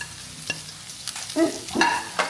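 Onions fry in a pan at home and are stirred, giving a faint sizzle broken by a few scraping, clinking stir strokes and light knocks spread over a couple of seconds.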